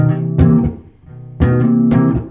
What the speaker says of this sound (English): you might have also seen funk chord lines that sound like this.